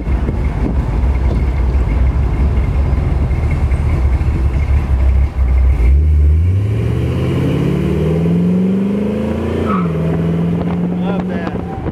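A 1929 Ford Roadster hot rod accelerating hard through second gear, its engine roaring loudly and continuously with pitch rising steadily, a brief drop at the shift, then climbing again.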